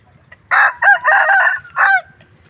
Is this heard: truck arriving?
no